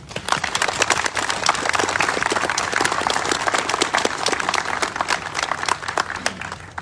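Audience applause for a Vietnamese delegation in traditional clothing at a Vietnam Veterans Day welcome-home ceremony: dense, sustained clapping from a crowd, steady and fairly loud throughout, with no talk over it.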